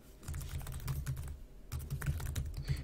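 Someone types on a computer keyboard in two quick bursts of rapid, close key clicks separated by a short pause, with no talking.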